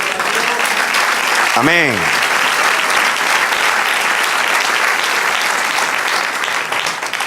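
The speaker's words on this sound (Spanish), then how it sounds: "Denle otro aplauso." A church congregation gives loud, sustained applause throughout, with a single voice calling out briefly near the start.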